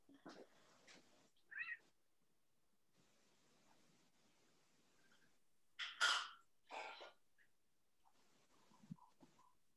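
A pet cat meowing quietly, in a few short separate calls spread across a near-silent room, with one stronger pair of meows partway through.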